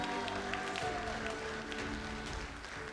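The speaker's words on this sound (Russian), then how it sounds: "Громче аплодисменты в честь наших юбиляров." Audience applause at a Cossack choir's 35th anniversary concert, a steady wash of many hands clapping, faint and continuous throughout.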